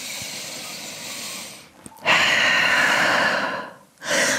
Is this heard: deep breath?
yes